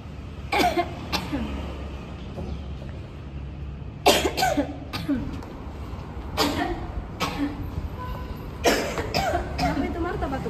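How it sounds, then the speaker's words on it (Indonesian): Several bursts of harsh coughing come in clusters with pauses between them, near and loud, with low talking in the background. "Dari tadi aku lihat batuk-batuk terus."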